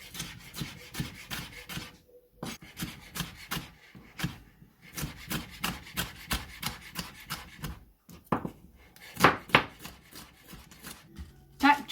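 Knife slicing vegetables on a chopping board in a home kitchen, a steady run of quick cutting taps in bursts with short pauses, close and fairly loud, followed by a few sharper strokes.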